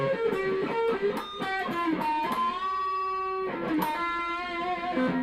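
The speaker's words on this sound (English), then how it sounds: "all I'm using is my peavey old stereo chorus with the built-in reverb and the built-in distortion" A Korean-made 1990s DeArmond Starfire IV electric guitar plays a sustained chordal and melodic passage through an old Peavey stereo chorus with built-in reverb and distortion, thick and shimmering, with long ringing held notes and no voices.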